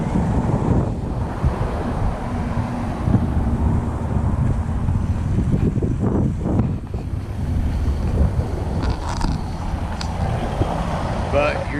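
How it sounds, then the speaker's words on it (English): Steady wind buffets the microphone over a broad wash of ocean waves at a bay opening onto the sea near a coral reef, loud and continuous throughout. "right there through the opening, that's the ocean."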